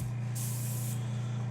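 A Black Widow airbrush releases a short burst of compressed air, a bright hiss lasting about half a second over the steady, close, low hum of a running air compressor, with no speech.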